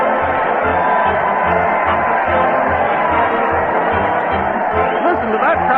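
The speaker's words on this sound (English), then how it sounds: "Listen to that crowd. They're cheering as the big parade marches to the old Town Hall" A large crowd roars and cheers along a parade route to the old Town Hall, with a steady dense wash of voices and a rhythmic thumping underneath, in an old 1936 radio-style recording.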